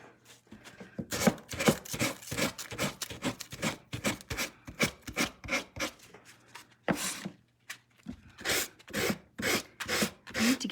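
Wood being sanded by hand in a workshop, a steady series of short rasping rubbing strokes at close range, loud and repetitive with brief pauses between bursts.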